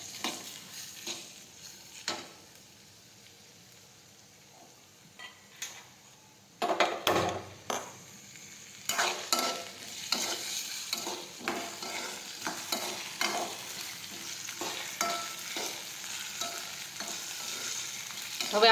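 Okra and tomatoes frying in a pan, a steady close sizzle with intermittent stirring scrapes and clatters that grow louder and busier partway through, no talking.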